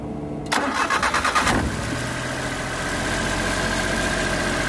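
A Suzuki Multicab engine with a freshly replaced ignition coil cranks for about a second with rapid rhythmic turnover, then catches and settles into a steady, close idle.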